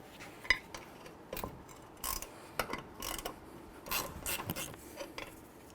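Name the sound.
ratchet removing second brake caliper bolt on Chevy Silverado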